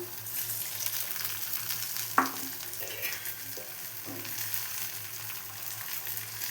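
A low, continuous sizzle of tamarind water in a hot pan, with a brief clink of a utensil partway through and faint stirring sounds.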